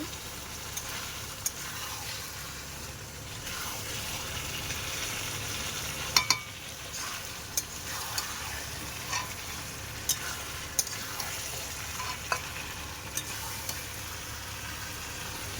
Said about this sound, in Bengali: এই যে মাংসের থেকে কিন্তু তেল ছাড়ছে এখনো কিন্তু কষাই হবে মাংস